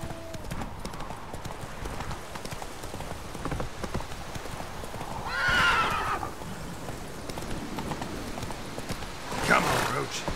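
Roach, Geralt's horse in The Witcher, gallops with rapid, close hoofbeats throughout and gives two loud neighs, one near the middle and one near the end, while someone talks over it.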